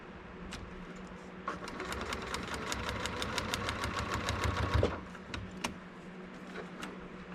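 A sewing machine without a walking foot stitches in a fast, even mechanical rattle for several seconds while paper piecing a miniature quilt, then stops, leaving a few scattered clicks.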